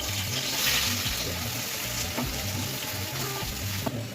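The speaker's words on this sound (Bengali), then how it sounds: "এবার হচ্ছে পেঁয়াজের বেরেস্তাটা প্রথমে ভেজে নেবো।" Onions fry in hot oil in a kadai for birista for hilsa biryani, a continuous close sizzle with light stirring and bubbling throughout.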